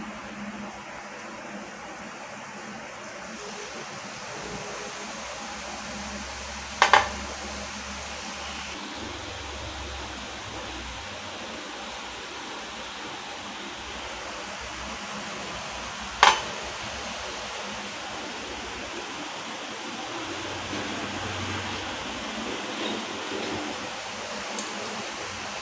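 Omapodi murukku dough pressed into hot oil fries with a steady broad bubbling sizzle, two sharp clicks breaking the even wash of sound.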